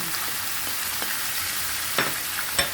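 Pork belly and chicken neck fry in a pan with a steady, fairly quiet hiss of sizzling fat, broken by a few sharper pops and clacks near the end.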